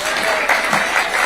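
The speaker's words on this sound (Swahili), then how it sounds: "Wapi makofi ya baba jameni?" An audience claps for Raila Odinga at a crowded political gathering, loud, dense applause that carries on without pause, with crowd voices mixed in.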